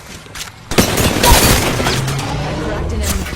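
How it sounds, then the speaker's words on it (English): Gunfire in the video game Apex Legends, a burst of rapid shots and booms starting suddenly and continuing steadily, with game voice lines and effects in the background. "Bad boys are shooting at me."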